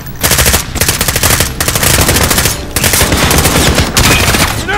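Sustained machine gun fire in Call of Duty: Modern Warfare, loud rapid bursts filling the scene with brief pauses between them, close and dense.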